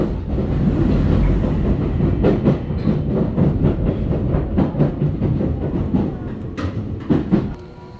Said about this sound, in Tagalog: This is the local train bound for Karakita.